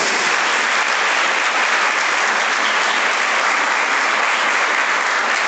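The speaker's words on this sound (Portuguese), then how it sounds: "Ô glória, vamos aplaudir o nome de Jesus." Steady, dense applause from a church congregation during a Catholic sermon, loud and sustained throughout with no talk over it.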